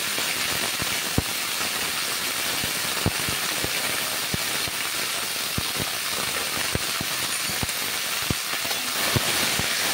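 Eggplant, peas and drumstick flowers fry in a pan of hot oil with tempering spices, giving a steady broadband sizzle dotted with frequent sharp crackles and pops, close up and without talk.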